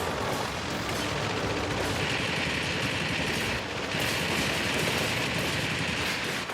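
Aircraft gunfire in World of Warplanes, including a tail gunner, rattles continuously over a steady droning engine, dense and loud throughout with no pauses.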